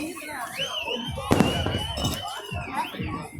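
Fireworks burst in a loud crackling explosion midway, followed by scattered pops and booms beneath a whistling rising tone and a speaking voice.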